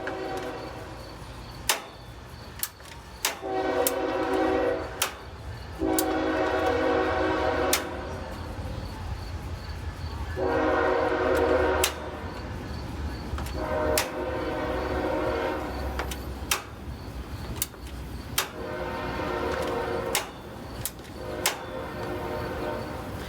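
A train rumbles past nearby, with repeated blasts of its horn sounding in bursts over the steady rolling noise.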